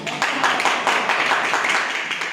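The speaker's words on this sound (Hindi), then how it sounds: "यहाँ तो ताली बनता है" Brief applause, a short burst of clapping from an audience, moderately loud and fading after a couple of seconds.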